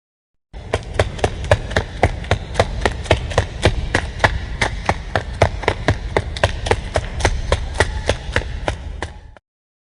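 Running footsteps land in a steady, fast rhythm of sharp, evenly spaced impacts, close and loud, continuing for several seconds before stopping.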